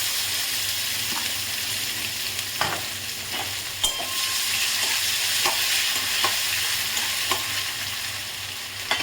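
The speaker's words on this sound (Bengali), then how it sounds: "নারকেলটাকে একটু ভেজে নেব" Grated coconut fries in hot oil tempered with nigella seeds, dried red chillies and bay leaves, giving a steady loud sizzle with repeated scrapes and clicks of a spatula stirring the pan close by.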